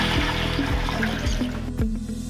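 Water poured and sloshed to change the soaking water of revived dried vegetables, a continuous liquid wash with faint splashy pulses, close and moderately loud, no voices.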